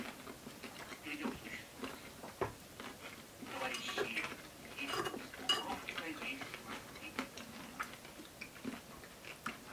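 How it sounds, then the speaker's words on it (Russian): Spoons and cutlery clatter and clink against dishes in quick irregular bursts at a New Year's Eve dinner table, close by, with soft murmuring voices in the background. "Сейчас можно погреметь немного ложками."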